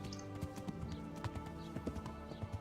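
Hoofbeats of a draft horse in the medieval video game Kingdom Come Deliverance, a quick irregular clip-clop of soft thuds over a steady layer of game background sound.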